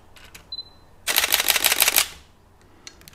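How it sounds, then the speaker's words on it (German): A Sony Alpha 580 camera fires a burst of rapid shutter clicks at up to seven frames per second for about a second, sharp and close, framed by a few isolated quiet clicks before and after. "die Kamera schießt bis zu 7 Bilder in der Sekunde."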